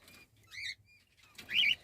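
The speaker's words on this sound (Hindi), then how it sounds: "वीडियो में आप देख सकते हैं कि पक्षी को सांस लेने में तकलीफ हो रही है" A sick cockatiel with respiratory disease makes short, faint wheezy squeaks and rasping breaths close by, two brief strained bursts separated by near-silence.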